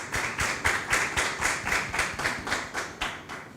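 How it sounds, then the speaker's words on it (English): Applause at a formal event on legal reform against violence toward women in Grenada, as a speaker is invited to the podium; steady rhythmic clapping from a few people nearby, fairly clear and even throughout. "yes, round of applause."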